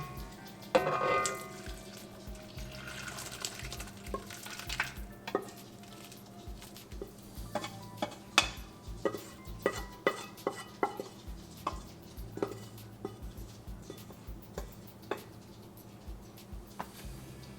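Cooked dal for dal makhani stirred into a simmering gravy, with a scrape of a spoon early on and then a long run of sharp clinks and knocks against the pot over a faint bubbling hiss.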